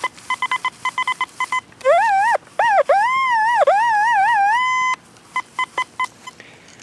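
A metal detector chirps in short rapid beeps, then sweeps into long high warbling tones that rise and hold before returning to quick beeps, signalling shallow steel.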